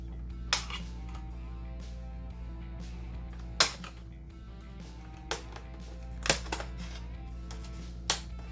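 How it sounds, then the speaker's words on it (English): Dell Inspiron 1100 laptop from 2003 having its trim strip pried off during repair: a handful of sharp isolated plastic snaps and clicks spaced a few seconds apart, close up over a low steady hum. "actually going to pull the strip off here first."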